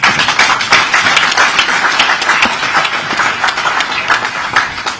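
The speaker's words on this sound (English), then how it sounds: "Once again, a round of applause for Mr. Speaker." Close, loud applause from the audience at a joint National Assembly committee retreat in Port Harcourt, dense overlapping clapping that continues steadily throughout.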